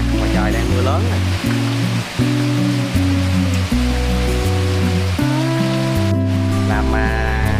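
A steady downpour drums outside in Vietnam's Mekong Delta region, a continuous rushing wash of rain mixed with prominent background music.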